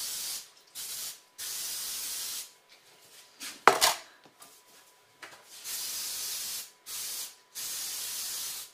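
Baking spray hisses from a can into bread pans held over a kitchen sink. It comes in about seven short, loud bursts with brief pauses between them, and a clatter of a pan is heard in the middle.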